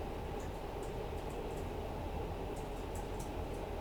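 A Class 50 diesel locomotive hauls a long passenger train on the Riviera Line in Train Sim World, a steady loud engine rumble and rolling rail noise with faint rhythmic clicks of wheels over joints, no talking.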